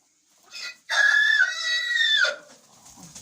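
A rooster crows inside a chicken coop, one long, loud, close call after a short lead-in note, trailing off into quiet rustling.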